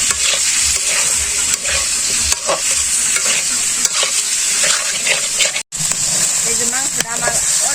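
Chicken sautéing in a pan in a village home kitchen, a steady loud sizzle with repeated scraping stirs throughout and brief faint voices near the end.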